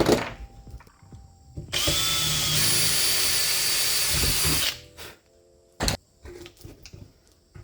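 A power drill bores a hole for a 1/4 inch bolt through a sluice part in one loud, steady whirring burst of about three seconds, with clicks and handling knocks around it.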